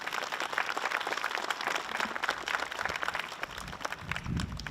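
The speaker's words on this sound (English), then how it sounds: "you're very kind with your applause" Crowd at a highway work zone safety press conference applauding, a dense, moderately faint patter of many hands clapping continuously for several seconds.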